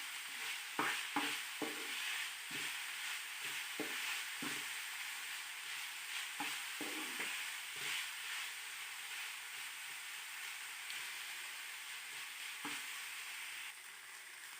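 Vegetables for a chicken vegetable lasagna fry in a pan with a spoon stirring them, producing a steady hiss with a run of quick clinking scrapes early on, then a quieter sizzle.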